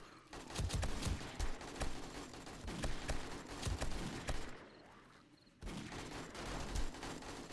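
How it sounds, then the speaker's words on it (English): Automatic turrets firing in the 7 Days to Die video game, sustained rapid crackling gunfire in dense bursts, dropping briefly to near quiet before resuming. "Those auto turrets definitely do the damage."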